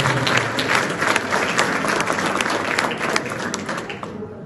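An audience applauds at a musical theatre event, sustained dense clapping throughout that fades slightly toward the end.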